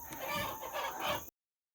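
A hen in a nest box clucks in soft, repeated bursts close by, then the sound cuts off abruptly.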